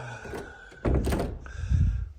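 A door swings and closes with a solid thunk nearby, followed by a short rattle as it settles.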